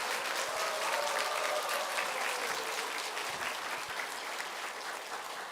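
A church congregation applauds the choir at a Sunday service, steady dense clapping filling the room from start to finish with no voices over it.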